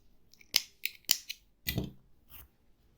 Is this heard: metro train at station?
no